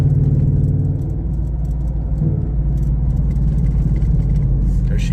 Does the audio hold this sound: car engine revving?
yes